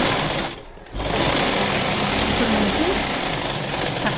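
A sewing machine stitches a plain blouse seam at close range, a loud, continuous rattling whir that dips briefly near the start before running on steadily.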